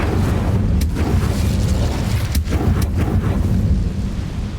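A fire spell bursts out in Hogwarts Legacy, a loud, dense roaring whoosh of flame with a few sharp crackling pops rising over a steady rumble, all without any talking.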